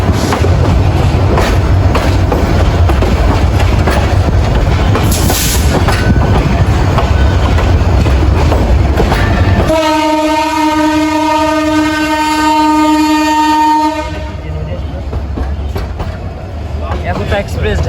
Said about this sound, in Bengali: উত্তরবঙ্গের প্রবেশদ্বার খ্যাত সান্থা রেল স্টেশনে আমরা প্রবেশ করতেছি